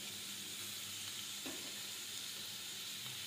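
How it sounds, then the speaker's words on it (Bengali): Chopped cabbage, carrot, ginger, garlic and onion fry in white oil in a kadai, giving a continuous even hiss of sizzling with one faint stirring knock partway through. "বাঁধাকপি, গাজর, আদা, রসুন, পেঁয়াজ কুচি, এগুলো একটু ভেজে নেব।"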